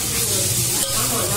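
Tomatoes hitting a hot pan of fish kulambu with ginger and garlic, a loud close sizzling hiss that holds steady for a moment.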